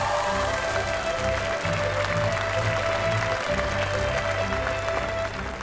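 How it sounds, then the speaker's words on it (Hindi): An audience clapping loudly for a dancing couple at a stage show, dense continuous applause throughout with music playing underneath, tapering slightly at the end. "एक बार जोरदार तालियां बजा दीजिए हमारे ब्यूटीफुल अमेजिंग डांसिंग कपल के लिए।"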